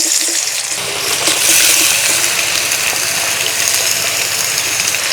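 Boiled radish dropped into hot oil tempered with fennel seeds gives a loud, steady hiss of sizzling frying that swells briefly and holds without talk.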